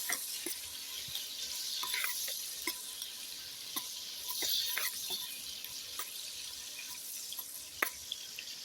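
Garlic sizzles and crackles steadily as it is stir-fried in a pan for sweet and sour dried fish, with scattered sharp ticks from stirring.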